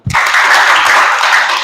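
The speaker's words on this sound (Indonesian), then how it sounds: "Tepuk tangan dulu." Schoolchildren in an Indonesian classroom break into sudden, loud group clapping after a brief thump, a close, dense burst of many hands that holds steady to the end.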